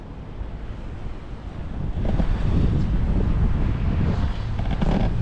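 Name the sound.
wind on a remote tropical island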